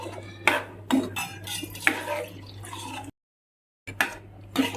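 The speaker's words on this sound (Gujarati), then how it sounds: "હવે આપણે અંદર વટાણા નાખી દઈશું।" Peas are tipped into thick usal gravy in a pan and stirred, giving close, sharp clinks and scrapes of a spoon against the metal pan in short bursts with soft wet sloshing, broken by a brief silent gap.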